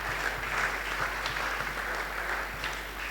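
Church congregation applauding during a Sunday service in Kinshasa, a steady, dense clapping that holds evenly throughout at moderate loudness with no voices over it.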